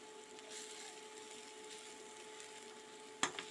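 Red chillies fry in a hot pan while being stirred. A faint, steady sizzle sits under a low constant hum, and a single sharp clink of the stirring utensil against the pan comes near the end.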